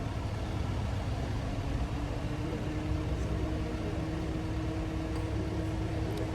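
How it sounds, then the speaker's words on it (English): A noisy car passes outdoors, its engine a steady low rumble with a faint hum that holds fairly level and continuous for the whole stretch, with no speech. "There's a car that makes too much noise."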